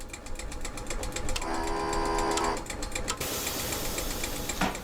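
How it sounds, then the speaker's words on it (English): In the train simulator game SimRail, a train whistle sounds as a steady tonal blast lasting about a second amid rhythmic mechanical clicking and rail noise, followed by a brighter, noisier passage. "there's the whistle"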